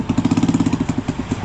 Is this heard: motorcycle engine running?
yes